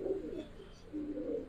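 Pigeons coo softly on a rooftop where many birds, including hens, are kept, with low murmuring calls repeating close by and no talk over them.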